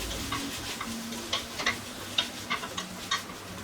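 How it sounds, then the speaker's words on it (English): Spices and onion fry in a pan for a root vegetable pie, giving a quiet sizzle broken by a series of light, irregular ticks and pops close by. "So we're frying out the spices with the onion"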